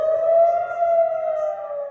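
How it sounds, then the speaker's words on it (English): An air raid siren in Israel wails in a steady, rising and falling tone, loud and alone. "exploded with sirens"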